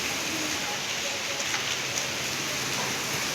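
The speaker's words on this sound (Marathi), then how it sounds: "पाऊस इतका पडतोय" Heavy rain falls in a continuous broad hiss, with a few faint distinct drips and taps over the steady downpour.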